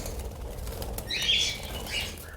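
Birds in a large aviary cage flap their wings in a short flurry that swells mid-way and again near the end, with faint chirps over a steady background.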